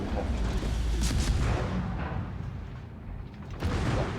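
Naval artillery fire in a battleship video game, with heavy booming shots and rumbling explosions that roll on under a steady low din, loud and close, with no talk.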